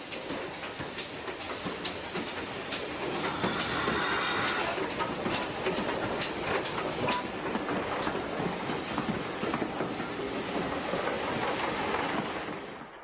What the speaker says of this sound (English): this is how panniers are best remembered, chuffing quietly along a country line